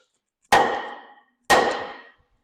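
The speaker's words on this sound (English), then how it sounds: "Maybe a couple more whacks and it'll be good." Two separate hammer whacks drive a part over on a block while a PTO and spoked flywheel are fitted, each a loud close thud with a brief ringing decay, about a second apart.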